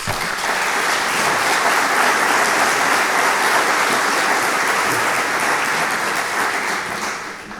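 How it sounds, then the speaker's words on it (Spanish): A crowd at the inauguration ceremony of a human rights route in Oviedo gives steady, full applause close by, holding strong for several seconds before starting to fade. "Le damos, por favor, un fuerte aplauso"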